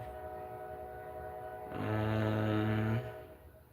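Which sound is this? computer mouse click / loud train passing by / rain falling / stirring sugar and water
loud train passing by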